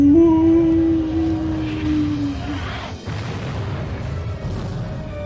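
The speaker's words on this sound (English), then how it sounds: "The really cool explosion behind them" A deep explosion rumbles from the Jak 2 video game, with a loud booming roar and a falling tone that fade into a sustained low rumble.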